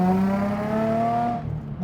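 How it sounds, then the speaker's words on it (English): A car departs a JDM car meet on the road, its engine tone droning loudly and close before dropping away as it pulls off. "The car's leaving."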